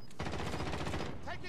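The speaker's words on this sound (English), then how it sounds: "Taking fire!" Gunfire in the video game Modern Warfare Warzone crackles as a dense, continuous volley of rapid shots, loud and close, over a brief moment.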